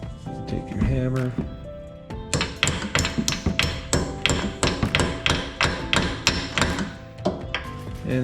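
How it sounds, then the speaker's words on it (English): Steady hammer blows drive pins into a four-piston brake caliper from the back on a Dodge Charger/Challenger, a rapid run of sharp metallic strikes with ringing tones, close and loud, with a voice in the background. "And hammer them in from the back."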